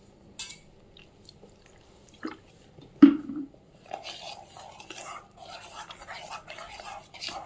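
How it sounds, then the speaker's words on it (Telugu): Chilli bajji batter is mixed by hand in a bowl while water is added, heard as soft scattered wet squishes and sloshes in a quiet room, with a few sharper taps and a busier stretch of mixing near the end. "కొద్దిగా వాటర్ యాడ్ చేస్తూ కలుపుకోండి."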